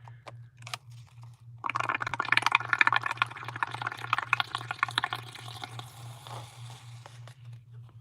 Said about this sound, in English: So here I'm just taking those big bubbles and just popping the bubble.